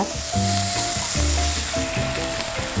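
Chicken thigh meat frying with onions in a pan for a Japanese-style chicken and egg rice bowl, giving a loud, continuous close sizzle with occasional stirring, while a steady low tonal hum runs underneath.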